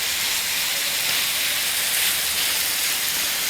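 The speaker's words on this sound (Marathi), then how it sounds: "याला एक 8 ते 10 मिनिटं मी मोठ्या गॅसवर याला मस्त फ्राय करून घेतलं आहे" Chicken frying on a tava over a high gas flame, giving a steady, loud hiss and sizzle that holds constant throughout with no break.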